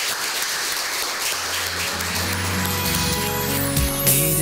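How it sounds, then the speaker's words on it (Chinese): A class applauds to welcome its new teacher, a brief wash of clapping at the start before music with a sustained melody takes over. "那就让我们以热烈的掌声欢迎他来到我们班"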